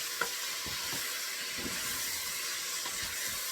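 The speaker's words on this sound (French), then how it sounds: "Remuez bien à chaque fois et ça mélange vraiment tout" A spoon stirs a tomato-based mixture in a cooking pot, giving soft, irregular scraping strokes over a steady low hiss, moderately close and without talk.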